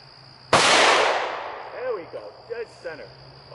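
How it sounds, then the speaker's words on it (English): A single loud report from a .40 Smith & Wesson handgun cracks close by and rings off, followed by a few brief voice sounds as the echo fades. "Now we've got the 40 Smith & Wesson I'm going to take a shot at"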